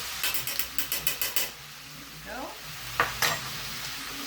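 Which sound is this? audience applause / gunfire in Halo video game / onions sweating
onions sweating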